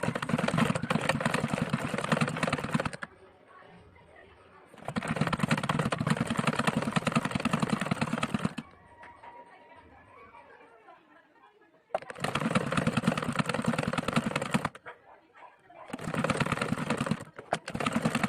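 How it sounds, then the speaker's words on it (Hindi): A sewing machine stitches a homemade cloth face mask, running loud and close in bursts of about three seconds each, with quieter pauses between runs. "स्टिचिंग हम स्टिचिंग मशीन पे करेंगे, हम हाथों से नहीं करेंगे।"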